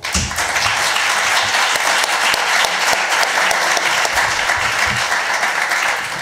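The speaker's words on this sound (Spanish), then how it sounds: "Un aplauso para ella." An audience applauds a speaker at a talk on the brain, with steady, dense clapping from many hands that holds at full strength for several seconds.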